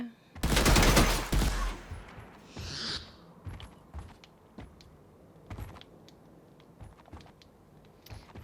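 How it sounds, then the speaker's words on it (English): Assault rifle fire in Fallout 4, played on PS4: a loud rapid burst of automatic shots up front, then a bright swishing effect and scattered single clicks and thuds fading into quiet. "make sure your assault rifle is equipped so you can kill this guy really quick"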